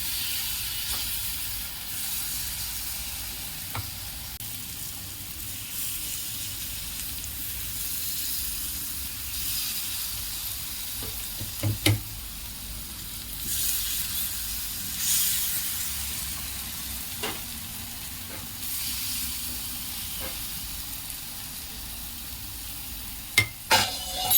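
Rava appe batter sizzles softly in the cups of an appe pan, a steady quiet hiss with a few faint clicks and taps over about twenty-four seconds, no voices.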